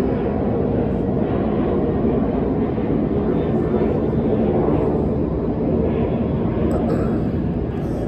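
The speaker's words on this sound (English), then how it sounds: "a plane flying by, so let that go for a second" An airplane passes overhead as a steady, loud, broad roar that stays constant throughout and masks much of the background.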